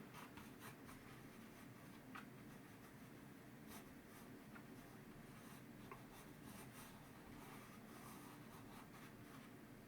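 Standard pencil scratching steadily across smooth Frisk cartridge paper, a close, continuous soft rasp with faint stroke accents, heard alone with no voices.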